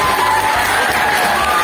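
A crowd at a drug-awareness outreach session, apparently a young audience, breaks into loud, close cheering and shouting, a dense burst of excited voices and whoops lasting under two seconds.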